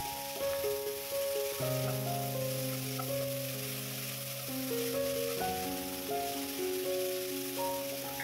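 Purple cabbage and green beans with seasoning stirred in a hot pan: steady close sizzling and frying hiss throughout, with light scraping and rattling under a faint musical backing.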